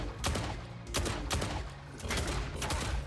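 Tetra Rifle shots in the mech combat game Mech Arena, a few heavy bursts of gunfire spaced about a second apart, loud and close with a dense rumbling tail between volleys.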